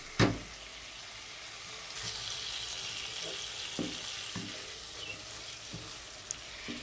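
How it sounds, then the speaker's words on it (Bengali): Spices fry in oil for ghugni with a quiet, steady sizzle, punctuated by a sharp knock at the start and several soft clinks and scrapes of stirring. "এভাবে করে একটু সময় নিয়ে এই মশলাগুলোকে কষিয়ে নিতে হবে"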